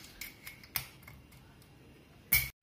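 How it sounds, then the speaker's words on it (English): Scissors snipping at a bottle cork, several faint close cuts and clicks with a sharper snap near the end. "you can put in the other part of the scissors and you can start just cutting it simply, slowly and steadily"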